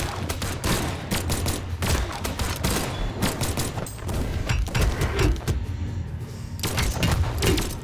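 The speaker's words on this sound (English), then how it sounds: "I'm getting shot into pieces." Gunfire in the Brawlhalla video game, a rapid, relentless barrage of sharp cracking shots in dense clusters with brief gaps, loud and close.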